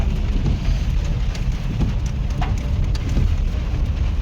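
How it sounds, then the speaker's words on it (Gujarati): Heavy rain pours at Salangpur, a dense continuous hiss of drops on surfaces that stays loud and even throughout, with no one talking. "સાળંગપુરમાં બહુ સારો વરસાદ છે ભાઈ"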